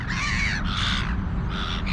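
Crows being fed nuts give several loud, harsh caws in quick succession, close by and outdoors over a steady background rumble.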